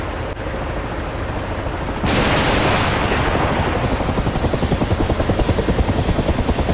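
A helicopter in the combat flight game DCS World, its loud steady rotor roar growing fuller after a couple of seconds into a rapid rhythmic thumping of blades, continuous and close throughout.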